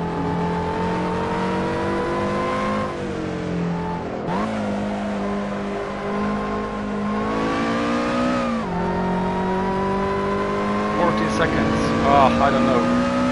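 Lotus car engine in the racing game Assetto Corsa, a steady droning hum that dips with gear shifts and rises again, heard continuously.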